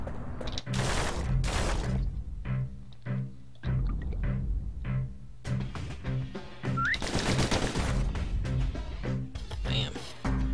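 Gunfire and combat effects in the action game Bastion: rapid, loud bursts and repeated hard shots, dense and continuous throughout, with short gaps between volleys.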